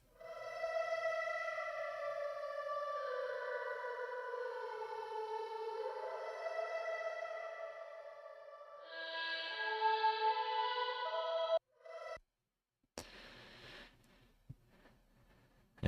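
A layered vocal sample with a Distant Voices Holy Divide preset forms sustained, choir-like tones that drift in pitch and swell brighter near the end, then cut off abruptly into sparse, faint fragments. Quiet and ethereal, with no talking.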